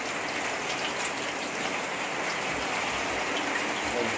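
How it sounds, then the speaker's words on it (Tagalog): Heavy rain pours steadily, a dense continuous hiss of drops drumming on surfaces, loud and close, with no break throughout. "Maririnig din naman, di ba? Ang laksang ulan."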